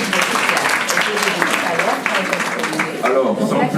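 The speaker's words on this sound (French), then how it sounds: "Les applaudissements pour lui." Audience in a business school lecture hall applauding a guest speaker during a back-to-school seminar, dense clapping mixed with murmuring voices and chatter throughout, fairly loud and close.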